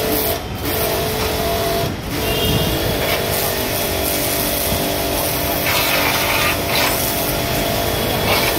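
A 220 bar, 2200 watt high-pressure washer blasts water at a tyre. The loud, steady hissing spray runs continuously and close up, dipping briefly at moments, with no talking.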